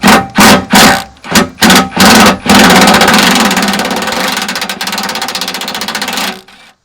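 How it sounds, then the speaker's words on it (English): A 3/8-inch impact wrench removes 13mm belly pan bolts on a Jeep TJ, sounding as several short hammering bursts followed by one long continuous rattling run that fades out, loud and close with no talk. "it takes a 13mm as of now till they change Jeep models, and I'm using a 3/8 impact"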